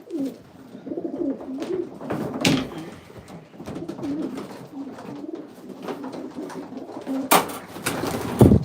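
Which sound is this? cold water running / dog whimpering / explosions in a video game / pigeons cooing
pigeons cooing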